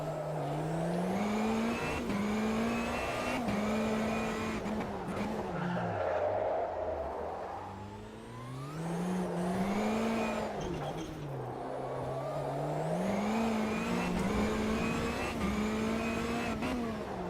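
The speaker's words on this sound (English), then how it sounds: "Just a slight tap on the gas to extend the drift range." A rallycross car drifts in Automobilista 2, its engine droning and swooping up and down in pitch as the throttle is feathered and the tires scrub, steady and close for the whole stretch.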